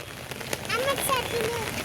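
Heavy monsoon rain pours steadily onto surfaces in Kalyan, a dense close hiss throughout, with faint voices in the background.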